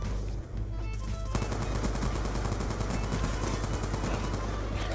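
Rapid automatic gunfire in a shooter video game, bursts of shots rattling continuously and loudly through the whole stretch with game effects layered beneath.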